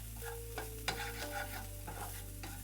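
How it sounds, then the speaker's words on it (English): Onions frying in a pan with Russian potatoes and mushrooms being prepared, stirred with a utensil: steady soft sizzle under a few scraping strokes and light knocks, close up, no voices. "I'm going to stir the onions as well because we don't want to forget about them"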